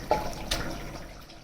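Spinach cooking water is poured over ingredients in a home kitchen for a palak beef gosht recipe, a brief splash then a soft liquid trickle, close and fairly quiet with no talking.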